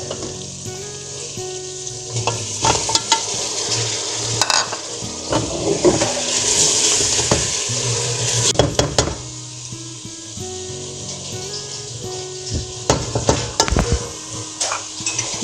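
Pieces of meat for aloo gosht fry in a pot with a steady, fairly loud sizzle, broken by clanks and scrapes of stirring and occasional bursts of hissing.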